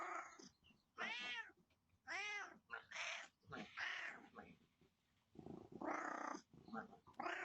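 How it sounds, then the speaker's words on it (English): An orange cat at a door meows repeatedly and loudly, letting out drawn-out, wavering cries in several bursts with short breaks between them. "That's a smart orange cat."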